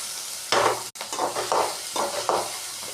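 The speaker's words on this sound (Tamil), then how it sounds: "போட்டு நல்லா வதக்கிக்கோங்க" Ginger garlic paste sautéed in a pan, sizzling loudly up close with several scraping stir strokes in quick succession, broken by a brief pause.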